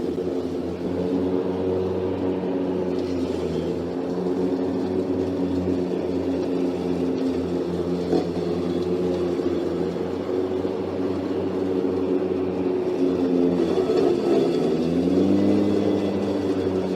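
A lawn tractor mower's engine runs at a steady, droning rumble with whirring cutting blades, the pitch shifting and rising near the end as the blade speed increases.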